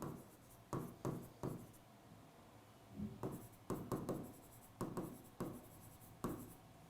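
Pen writing on paper during a geometry lesson, quiet close scratching strokes coming in short bursts separated by brief pauses, with no talking.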